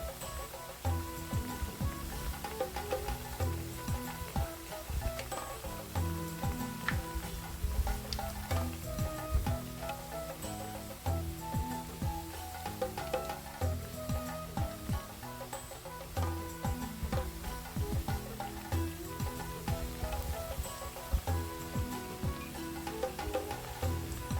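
Toor dal vadai deep-fry in hot oil with a constant busy sizzle and crackle, broken by light clicks and pops as the pieces are turned, with no voices.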